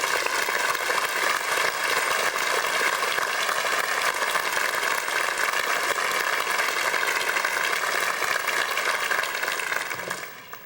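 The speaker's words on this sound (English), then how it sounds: "Please join me in applauding these exceptional teachers" Sustained applause from a large audience honoring award-winning teachers at a 1997 University of Washington commencement ceremony, a dense, steady roar of clapping lasting throughout before tapering off at the very end.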